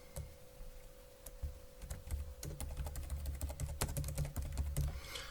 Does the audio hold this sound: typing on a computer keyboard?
yes